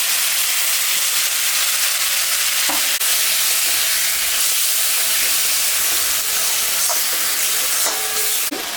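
Ginger, cumin and green and dried chilli paste sizzling loudly in a hot pan of oil with salt and turmeric for a fish curry, a dense, steady hiss with occasional faint stirring clicks.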